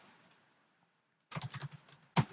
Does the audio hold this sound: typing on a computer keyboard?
yes